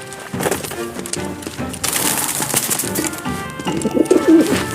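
Pigeon coos from a bird in Final Fantasy 7 Remake, soft repeated calls amid a busy game soundscape of ambient noise and music, with the cooing rising toward the end.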